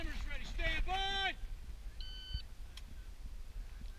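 A single electronic shot-timer start beep at an outdoor gun match on a ranch sounds briefly after a voice, clear and steady over faint background noise.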